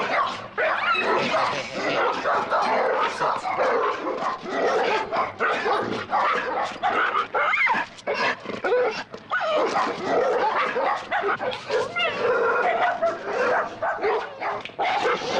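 A pack of dogs barks, yips and whimpers together in a continuous, agitated chorus, loud and close, with overlapping high-pitched cries throughout.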